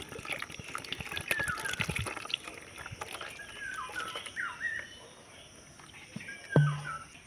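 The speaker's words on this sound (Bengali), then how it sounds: "এবার আমি 1 লিটারের মতন এখানে জল দিয়ে দিব। জল দিয়ে গুলে নেব" Water being poured into ground peanut paste and stirred together, wet sloshing and dripping with scraping taps, fairly quiet and close, ending with a sharper knock.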